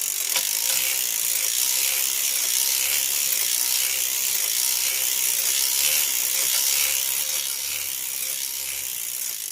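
A circular sock knitting machine being cranked through rows for a doll's shirt gives off a steady mechanical ratcheting clatter. It runs continuous and close, with no talk over it.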